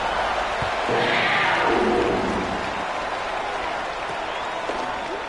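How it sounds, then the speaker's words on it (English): A loud stadium crowd in the video game EA College Football roars and applauds steadily, swelling early then settling into a sustained broad cheer. "these fans, they get something to cheer about with that first offensive possession"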